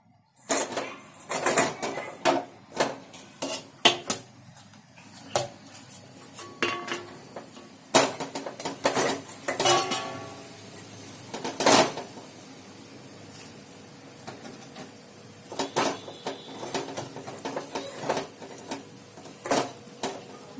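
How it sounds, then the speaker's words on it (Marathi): Metal pot and lid clatter in bursts as a steamer is set up for rice-flour khichiya papad dough, with sharp clanks, scrapes and a faint background hiss, fairly close and without talk. "त्याच्यावर हे झाकण ठेवूया"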